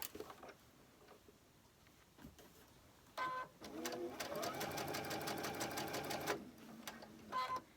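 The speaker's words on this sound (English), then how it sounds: "I am sewing a 1/4 inch" A sewing machine stitches a quarter-inch seam through cotton quilting fabric in a steady, fast rapid-fire run of needle clatter after a few short bursts, close and fairly quiet, with a soft voice at times.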